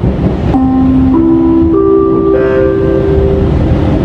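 The KA Purwojaya executive passenger train rolling through Jakarta at night, a loud steady rumble with a long two-tone horn blast rising and holding over the running noise.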